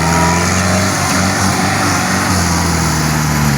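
A New Holland tractor's diesel engine runs loud and close, a constant droning rumble with a strong low throb and steady whine, no pauses.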